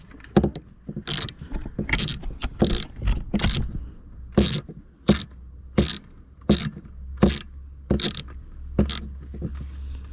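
A ratchet snugs down the two 10mm bolts on an EGR blanking plate fitted to a 2.0 HDI/TDCi diesel engine. Close, sharp bursts of clicking repeat a dozen or so times, separated by short pauses, with no voices.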